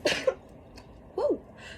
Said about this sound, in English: Woo, that was a nice sneeze